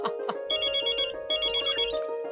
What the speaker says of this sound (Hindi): किसका फोन है? बॉस का?